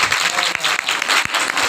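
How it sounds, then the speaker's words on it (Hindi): An audience applauds a child who answered a quiz question, loud dense clapping that fills the whole short stretch with no break. "बच्चे के लिए जोरदार तालियां।"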